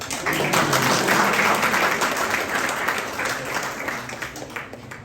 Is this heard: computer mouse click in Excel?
no